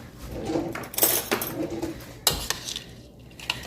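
Tuna casserole ingredients mixed in a bowl, with a spoon scraping and clinking against the sides in uneven bursts, close and moderately loud.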